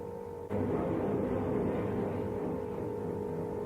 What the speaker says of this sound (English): the sound of the dial tone humming in her ear